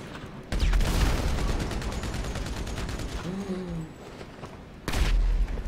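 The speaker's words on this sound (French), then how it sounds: "Il y a un tank en train de nous tirer dessus." Rapid gunfire from a tank rattles in bursts during a military-base video game scene, a steady dense fusillade with heavier booms at the start and end, fairly quiet overall with faint talk.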